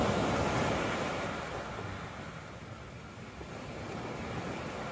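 Ocean waves wash and lap onto the sand at Latigo Beach at night, a steady broad rush of surf with no talk, moderately loud and easing slightly partway through.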